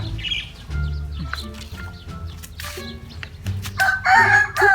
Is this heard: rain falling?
no